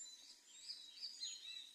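Faint, high birdsong at sunrise, with several light chirps and trills drifting over a quiet outdoor background, no voices.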